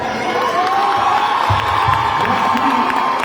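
Audience at a live eloquence contest cheering and applauding, a dense sustained roar of voices with whoops and clapping, loud and continuous throughout.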